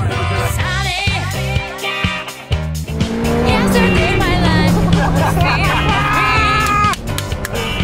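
A repaired fire-damaged Ferrari revs and pulls away, its engine loud and close. Tyres squeal in places, and excited voices and cheering from a small crowd run over the sound the whole time.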